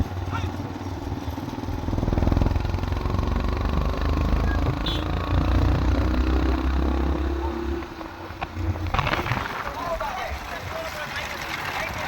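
A motorcycle engine rumbles and revs nearby at a race in Poothalapuram, Thoothukudi district, with someone talking loudly over it and crowd noise in the background.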